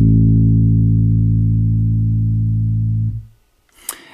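Synthesized bass patch in Max: a loud, deep sustained tone held steadily for about three seconds, then stopping sharply, followed by a short faint click near the end.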